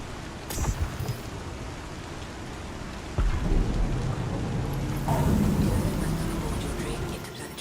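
Rain in a video game, a steady hiss of falling rain with low rumbling thunder-like swells and a few sharp interface or impact clicks, moderately loud throughout.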